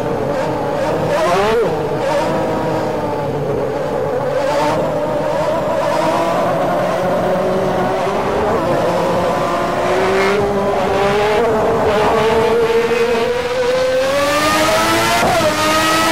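A 1992 Formula One race car engine in the Game Stock Car Extreme racing game roars continuously at high revs, its pitch climbing and dropping with gear shifts, loud and up close, with a faint voice talking underneath.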